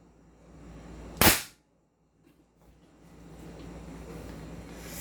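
A Beretta M92 replica airsoft pistol fires a single sharp, loud crack that cuts off abruptly, followed by near silence and then a low ambient background.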